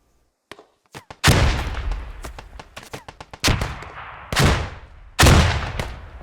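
In a squad-based shooter game, a rapid exchange of rifle fire crackles on, and several heavy grenade explosions boom through it, each a loud thump with a rolling decay.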